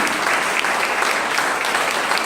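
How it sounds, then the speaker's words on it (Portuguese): A church congregation claps together during a worship service, producing a continuous, fairly loud wash of applause with no break. "Você pode dar uma salva de palmas por isso"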